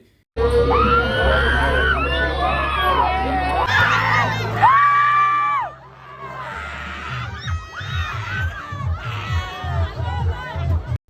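A crowd of girls on an amusement swing ride at a fair shrieks loudly together in long, rising screams, breaking into scattered shouts and chatter as the screams fade.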